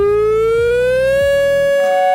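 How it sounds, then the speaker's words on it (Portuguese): A fuel-exhausted warning siren wails in a single loud, steady tone that slowly rises in pitch, then cuts off abruptly. "toca uma sirene de que acabou o combustível"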